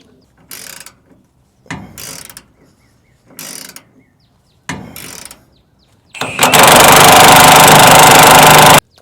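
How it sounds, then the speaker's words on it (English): A tool tightens the shackle bolts on a Chevy C-10 pickup fitted with McGaughy's 1"-2" drop shackles: four short ratcheting bursts separated by pauses, then one long, loud, continuous run close by. "Now we're going to zip down the shackle bolts"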